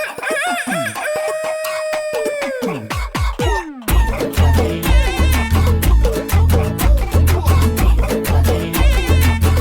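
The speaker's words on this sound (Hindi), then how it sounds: "मुर्गे की बांग" A rooster crows loudly up close, its call rising and falling, then cuts off into busy music with a strong beat.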